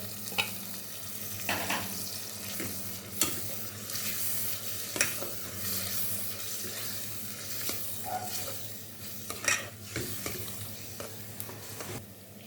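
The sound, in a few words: chicken frying in masala paste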